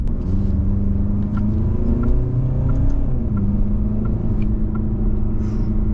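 An Alfa Romeo Giulia Veloce accelerates in first gear, its engine a steady, close, loud rumbling drone with a slowly rising tone and no break in the sound.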